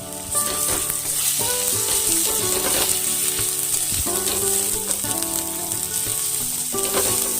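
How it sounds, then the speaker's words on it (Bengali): Spice paste of chilli, cumin and coriander powder fries with fried onions in a pan, a continuous loud sizzle under repeated scraping strokes of a spatula. "আমি এই মশলাটা আমি এই ভাজা পেঁয়াজের মধ্যে দিয়ে মশলাটা ভালো করে কষিয়ে নেব।"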